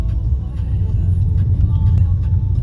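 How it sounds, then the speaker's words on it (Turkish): A car on a country road in the rural Lake District of England, heard as a loud, steady low engine rumble and tyre roar close by, continuous across the short stretch with no talk. "Araba geliyor biliyor musun?"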